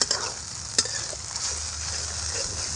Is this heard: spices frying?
yes